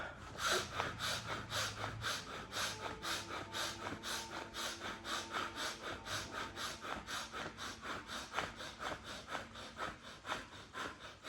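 A fast, rhythmic series of forceful breaths during a yoga breathing exercise, roughly three per second, steady and close throughout with no talking.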